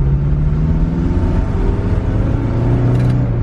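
A lifted minivan's engine hums and drones loudly from inside the cabin as it drives, a steady mid-pitched tone that rises slightly with light revving.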